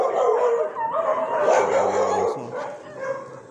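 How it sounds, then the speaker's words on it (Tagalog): Dogs bark, yip and whimper in a short burst of overlapping calls with some howling tones, close and fairly loud, over a background hum. "Ito mga aso dito."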